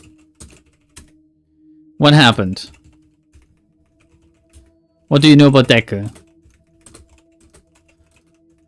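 Quiet computer keyboard typing in scattered light clicks, broken up by two loud spoken lines from a game's dialogue.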